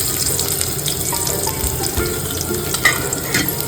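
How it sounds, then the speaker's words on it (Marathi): Chopped onion drops into hot oil tempering with crushed garlic for a Konkani-style sardine curry and sets off a close, steady crackling sizzle with small bursts, heard alone without speech. "कांदा घेतला होता तो घालते."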